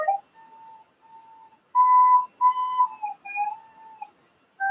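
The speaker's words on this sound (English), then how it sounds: "Practically everyone sounds like this when first beginning to play the recorder." A recorder played by a beginner gives thin, wavering whistle-like tones, quiet at first then louder, with uneven squeaky pitch jumps and short breaks between notes.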